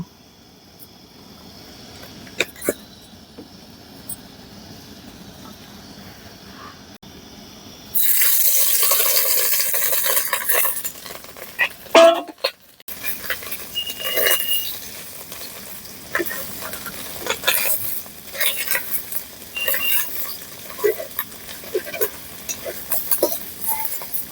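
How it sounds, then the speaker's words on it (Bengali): Fish roe fries in a little oil in a wok, a loud sustained sizzle that bursts in partway through after a quiet stretch, then continues with stirring scrapes and crackles. "কড়াইতে অল্প করে তেল দিয়ে দেবো মাছের ডিমটা ভাজার জন্য"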